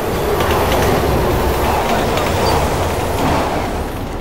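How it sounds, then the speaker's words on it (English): A train rumbling past in the Resident Evil 6 video game, a loud, dense and steady roar of rail noise filling the whole moment without letup. "The train did the job for us."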